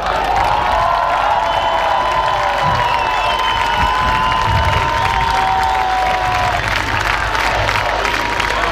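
At a welcome celebration for the Hungarian national football team in Heroes' Square, a large outdoor crowd applauds and cheers the coaching and support staff, a dense, loud, sustained roar with shouts and a droning horn-like tone over it.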